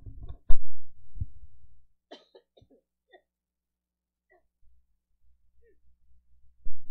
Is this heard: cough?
yes